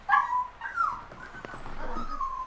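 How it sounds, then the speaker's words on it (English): A dog whimpers and yips close by indoors, several thin, high, wavering cries in quick succession over roughly two seconds, with no talking. "my dog is loud as fuck."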